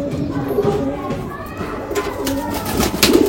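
Rampuri pigeons coo in soft repeated low calls close by, with a faint voice talking in the background.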